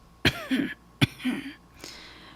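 A voice imitates someone clearing his throat, two sharp close coughing rasps each followed by a short guttural rumble, with a fainter third attempt at the end.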